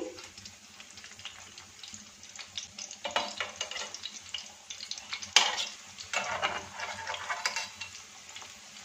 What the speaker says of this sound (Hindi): जी कबाब को डालते हीट को बिल्कुल लो कर देंगे लो हीट पे बहुत अच्छी तरह ये अंदर से गल जाएंगे